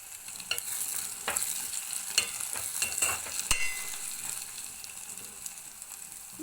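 A spoon stirs tamarind into a simmering onion egg curry, with scraping clicks and strokes over a soft steady sizzle, close and moderately loud, no voices.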